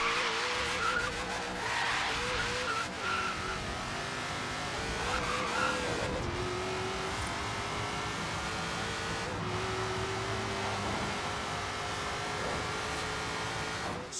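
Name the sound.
800 HP Ford Falcon engine, video game Forza Horizon 3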